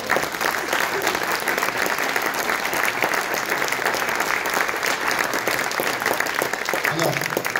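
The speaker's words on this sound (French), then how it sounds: "Voilà, on peut applaudir." Audience applauding the clarinet section of a French wind band (harmonie) at a concert presentation, dense sustained clapping from a crowd filling the whole stretch evenly without pause.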